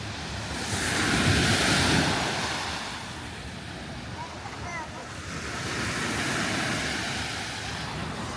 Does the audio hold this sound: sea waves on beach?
yes